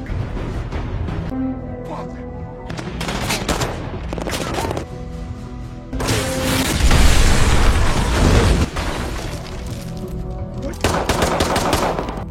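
Rapid bursts of gunfire crackle back and forth, then a heavy RPG explosion booms and rumbles, followed by more shooting; loud, cinematic action mix from a film attack on the White House entrance.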